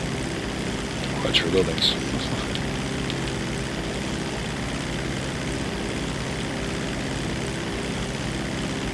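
Aircraft engine at full throttle in GTA 5 Online, a steady propeller drone holding level throughout with brief tonal blips early on, while a voice speaks over it.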